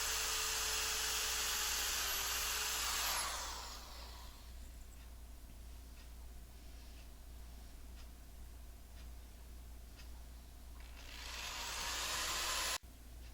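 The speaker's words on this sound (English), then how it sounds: "I pre-drill the holes from the head part of the bed all the way down to the foot" A power drill pre-drills holes in wooden bed slats. It whirs loudly for about three seconds, goes quiet for a long faint stretch, then whirs again near the end before cutting off abruptly.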